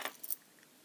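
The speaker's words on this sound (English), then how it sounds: "There's the keys." Metal keys for a Tommy Walsh disc detainer padlock jangle briefly and close, a few bright clinks in under a second, then quiet.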